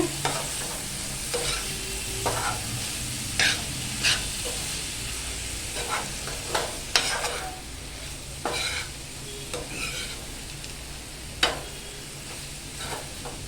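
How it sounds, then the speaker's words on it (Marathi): Dry prawns sautéed in hot oil with masala in Malvani style, giving a steady close sizzle with repeated scraping stirs of a spoon against the pan and no talk. "आता कर्दी आपली मसाल्यामध्ये छान अशी परतून झालेली आहे"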